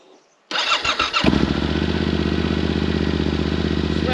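A motorcycle engine cranks and catches with a clattering start, then settles into a steady, loud, close idle, left running without revving to warm up and dry out moisture.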